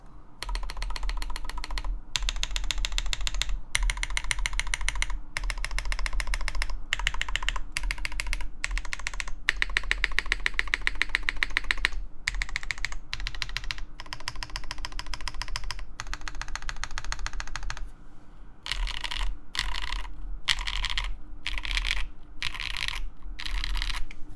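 Rapid typing on a mechanical keyboard, a CK BakenekoGO or Meletrix Zoom75 TIGA build, steady close clacking keystrokes with brief pauses and a few louder bursts, no voices.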